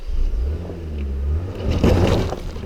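A 2021 Genesis GV80 SUV with a limited-slip differential pulls away from a standstill up a slightly icy hill, a loud, low engine drone building as it accelerates, with some tyre and gravel noise later on.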